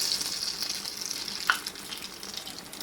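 Akara bean fritters frying in hot oil, a steady close sizzle with a bright hiss running throughout and one brief sharper pop midway.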